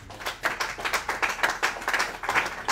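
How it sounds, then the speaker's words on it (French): A church congregation claps in acclaim of the Lord, loud rhythmic hand claps repeating quickly and steadily, close and without talk. "Est-ce qu'on peut acclamer le Seigneur?"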